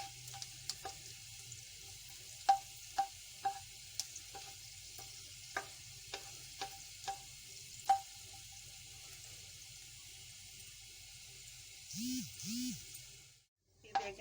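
Garlic frying in a pan for vegetable soup, a soft steady sizzle with scattered light clicks of stirring, faint and close, ending in a brief run of water.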